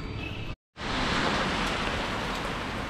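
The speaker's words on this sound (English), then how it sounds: "Why are we getting rained off when we've got a cover on?" Rain falls steadily on a building site under a scaffolding cover, a dense, continuous hiss of water close by that cuts off briefly and then resumes at full strength.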